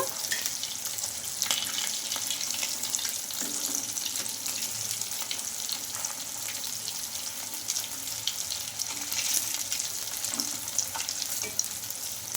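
Poha and potato snack patties fry in oil in a pan, giving a steady, close, broadband sizzle with crackles and occasional stirring or turning noises throughout, and no talking.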